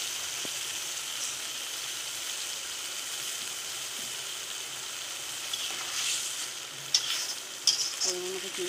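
Pointed gourd curry (potol chochchori) with sugar added gets stirred in a frying pan, a steady soft sizzle running throughout with a few sharper scrapes and clinks near the end.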